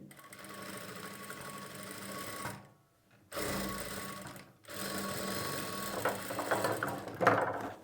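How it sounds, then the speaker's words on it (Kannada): A sewing machine stitches a dot-pattern blouse, running steadily up close with two brief pauses before resuming its fast mechanical whir. "ನಿಮಗೆ ಡಾಟ್ ಕಂಪ್ಲೀಟಾಗಿ ಸ್ಟಿಚ್ ಮಾಡಿದ ಮೇಲೆ ಒಂದು ಸಾರಿ ತೋರಿಸ್ತೀನಿ"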